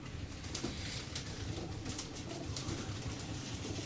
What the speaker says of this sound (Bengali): সব পায়রা এক এক করে নামছে।